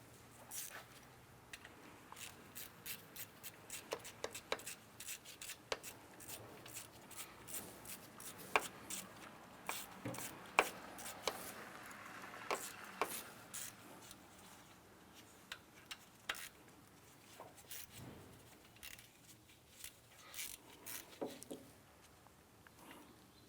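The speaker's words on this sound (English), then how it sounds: "At this point, we can go ahead and snug this bolt down right here." Snugging down an alternator bolt on a 2001-2005 Honda Civic: a quiet string of small ticking, clicking ratchet and metal taps, irregular and close, with brief pauses and no talk.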